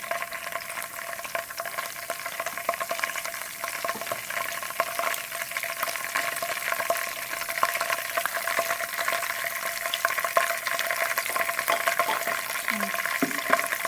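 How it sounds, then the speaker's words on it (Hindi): Cumin seeds frying in a small amount of oil while cooking a chicken korma, giving a steady, fairly quiet crackling sizzle that runs continuously throughout with no speech. "अब भी मसाले में से हम पहले ज़ीरा डालेंगे।"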